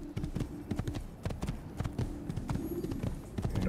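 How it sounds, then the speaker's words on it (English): Horse hooves clip-clopping in the video game Assassin's Creed, a steady rhythmic trot of distinct close hoofbeats with faint background tones. "Looks like there's another horse down there, actually."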